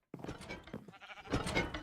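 Minecraft sheep let out a couple of close, wavering bleats in quick succession, the second swelling louder, with no talking.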